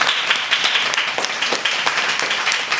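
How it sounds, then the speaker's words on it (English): Applause from a community climate week gathering after a cooking demonstration, a close, lively burst of clapping from a small crowd with individual hand claps standing out in an uneven rhythm. "Big round of applause for them all."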